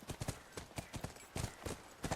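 Horse hooves clip-clop in a steady, rhythmic gait through The Last of Us video game, a repeated series of clear, close hoofbeats running throughout with no talk over them.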